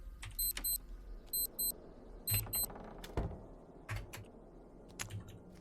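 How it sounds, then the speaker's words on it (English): Pawn shop alarm in Cataclysm DDA: short paired electronic beeps repeating in bursts, mixed with sharp clicks and clatters, moderately loud. "We're going to set an alarm off."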